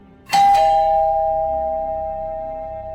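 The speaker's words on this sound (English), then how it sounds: "Just after 10, the doorbell rang." A two-tone doorbell chime rings once, close and clear, its notes lingering and slowly decaying.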